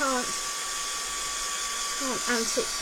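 A hair dryer blows steadily at close range to dry a handmade mixed media plaque built with Stamperia moulds, a constant whirring hiss running throughout while a voice speaks briefly at the start and end.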